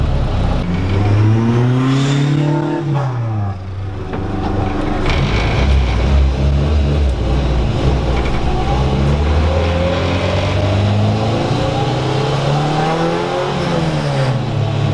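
A right-hand-drive Honda Civic EG6 SiR2 drives with its engine droning loud and steady throughout, revs climbing and falling in smooth sweeps, with road and tire roar underneath.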